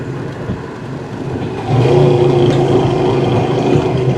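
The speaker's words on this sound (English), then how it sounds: "Downshifts always sound good." A 1972 Chevrolet Chevelle engine drops a gear and swells into a louder, steady mid-pitched drone, close and loud, with no talk.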